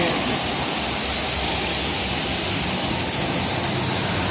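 Steady, loud hiss of heavy rain pouring down on the Jakarta–Cikampek toll road, a continuous wash of noise with faint vehicle rumble underneath.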